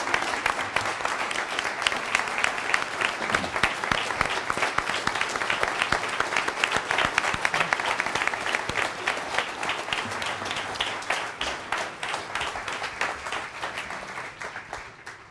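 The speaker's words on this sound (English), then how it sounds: "the speaker, Newt Gingrich, and Bill Lacey, come forward to a warm applause" A large crowd at an evening event with Newt Gingrich claps warmly and continuously for about fifteen seconds, loud and full, easing slightly toward the end.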